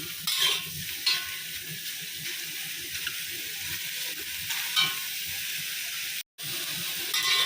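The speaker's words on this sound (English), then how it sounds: "Frying my oyster mushroom." Oyster mushrooms dry-fry in a pan with no oil, giving a steady close-up sizzle and hiss with stirring scrapes running through, broken by a brief drop-out near the end.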